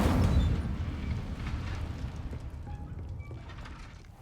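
In the video game Hogwarts Legacy, an Incendio fire spell goes off with a heavy rushing roar of flame. It starts loud, then slowly fades away with a low rumble, and no talking is heard.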